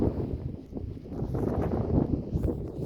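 Wind buffeting a microphone outdoors in a garden, a low, rumbling, uneven roar that swells and dips continuously for a few seconds with no voices.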